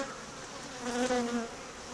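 Honeybees buzz steadily around a queen cage during a hive introduction, a dense close hum that swells slightly midway with no voices over it.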